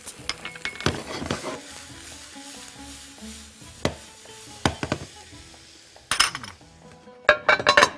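Onion, garlic and leek sizzle softly in a pan while a utensil stirs and clinks against metal and glass, with sharp scraping bursts near the end; close, fairly quiet, no talk.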